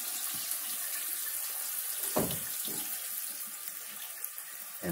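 Water runs and splashes steadily from a clogged toilet flooding a house, a continuous close rushing with a sharper gush near the middle and no voices.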